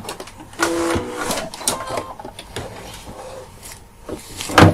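Sewing machine stitching the bottom seam of a fabric backpack, short bursts of rapid mechanical whirring broken by pauses and handling clicks, close by.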